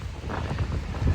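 Strong sea breeze buffeting an exposed microphone on a rough day at the beach, a loud, low rumbling roar with gusty swells and no voices.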